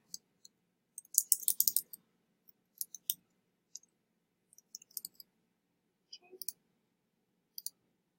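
Quiet computer mouse clicks while filling in a web form, scattered single and clustered clicks spread over several seconds against near silence.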